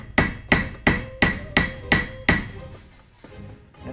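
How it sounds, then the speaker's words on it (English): A 3-pound hammer strikes metal on an anvil while shaping a metal crown, seven sharp ringing blows in a steady rhythm about a third of a second apart, each decaying briefly, followed by quieter, lighter taps. "I'm using a 3-pound hammer."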